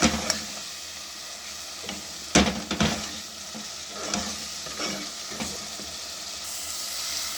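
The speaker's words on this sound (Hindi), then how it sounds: "और इसको मैं अच्छी तरह भून लूँगी।" Masala spices for a fried moong dal dish sizzle and fry in a pan while a spoon stirs them, with scraping bursts over a steady crackle and no talking.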